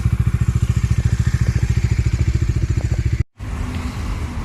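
Bajaj Dominar 250 BS6 motorcycle idling close by, a steady, even thumping engine pulse that cuts out briefly, then resumes as a rougher, softer running sound.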